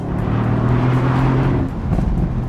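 Mercedes-AMG GT C sports car engine roaring loud and steady under load, with a drop around a crisp gear shift before the revs climb again.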